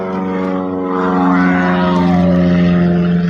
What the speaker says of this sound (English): There we got a nice little plane going over. That looks like an old classic.